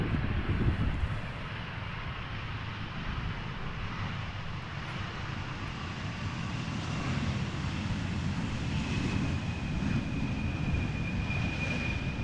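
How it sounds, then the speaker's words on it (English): A KLM passenger airliner on approach to Amsterdam Schiphol Airport in gusty crosswinds gives a steady, broad jet roar, with a faint engine whine rising late, muddied by wind rumbling on the microphone. "This is KLM flight 1516 arriving from Norwich."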